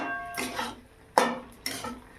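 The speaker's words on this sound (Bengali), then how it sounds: "একটু নেড়ে চেড়ে নিলাম।" A spoon stirring a dry, cooked vegetarian curry of potato and tender drumsticks in a pan, three soft scraping strokes spaced apart, close and quiet with no talk.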